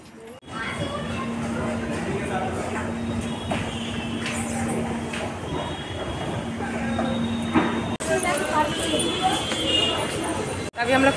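A Kolkata East-West Metro train rumbles steadily through Phoolbagan station, with a sustained hum and faint wheel noise, close by and continuous.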